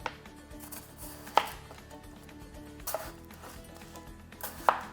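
A knife cuts chicken into pieces on a cutting board for soy sauce braised chicken. Three or four sharp, close chops ring out, spaced about a second or more apart over a low background hum.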